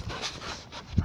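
A German Shepherd cross dog pants steadily and close by in a quiet indoor space, with soft rhythmic breaths running through the whole moment.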